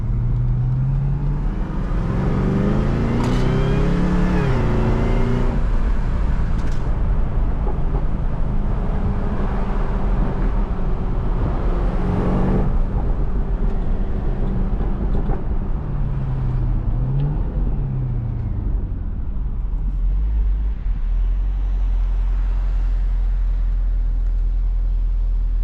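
Inside a 600 horsepower Cadillac CTS-V on a night city drive, the engine drones and rises through several throttle pulls and shifts, with steady road and cabin noise throughout.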